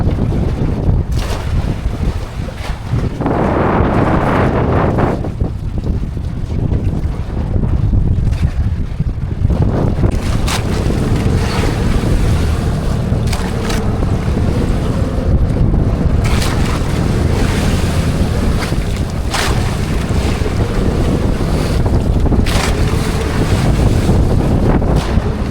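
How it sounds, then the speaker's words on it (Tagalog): A strong northeast monsoon wind batters a fishing boat out night fishing for squid at sea, with big waves, producing a constant loud roar of wind and surging water, and heavy microphone buffeting throughout. "Malaki yung alon mga bay. Lakas na amihan."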